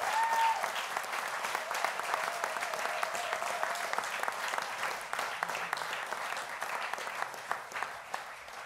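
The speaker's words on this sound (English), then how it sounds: "she deserves the biggest round of applause of anybody here present" An audience at the LSBC Awards 2013 ceremony claps steadily in a sustained round of applause, dense and even, fading slightly toward the end.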